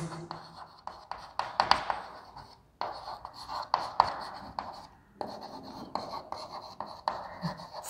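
Marker or chalk drawing a curve on a classroom board during a chemistry lesson, a steady run of scratchy squeaking strokes broken by short pauses, close and fairly loud with no talk over it.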